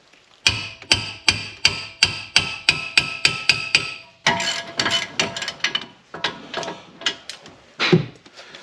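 Metallic tool strikes on a 2012 Honda Accord brake job, about a dozen sharp, evenly spaced clanks close by, followed by looser, irregular knocks and clatter of tools being handled.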